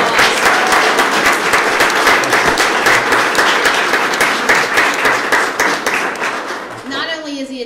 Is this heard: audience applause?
yes